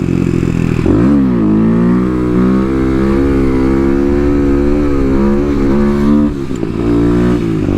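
Kawasaki KLX250SF supermoto motorcycle running steadily and loud up close, its single-cylinder engine droning with pitch shifts as it revs up and settles, then a brief throttle change near the end.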